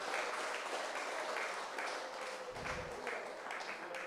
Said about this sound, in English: Please give a round of applause for Mr. White as he walks in.